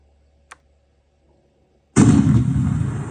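Main-gun shot with smoke effect on an Armortek Tiger RC tank sound unit: a faint tick, a pause, then a loud booming blast that rumbles on steadily to the end.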